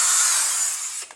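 A power driver briefly whirs at high pitch while backing screws out of a Porsche 911 speaker, one steady close burst that cuts off sharply.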